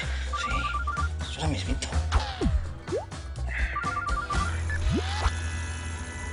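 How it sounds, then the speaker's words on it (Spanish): An office telephone rings in two bursts of rapid trilling bell tones, partly masked by people talking and background noise. "Y contesta ese teléfono que me tiene..."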